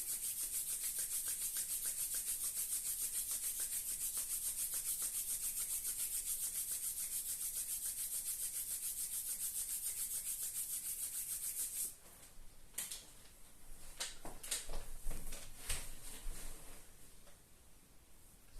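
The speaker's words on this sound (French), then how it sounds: "On frotte les mains." Hands rub briskly together during a lying-down yoga self-massage session, a steady soft hiss that continues for several seconds, then breaks into scattered light brushing and shuffling sounds near the mat.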